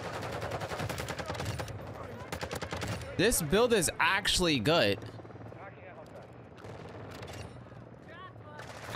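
Rapid gunfire from a weapon in Modern Warfare 2, sounding as fast bursts of shots with a brief louder stretch in the middle, heard under someone talking.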